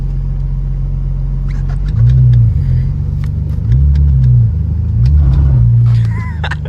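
A BMW E46 with a Turner Motorsports valved catback exhaust, valves open, idles with a deep loud rumble and is blipped three times, each rev swelling into a throaty roar before settling back to idle.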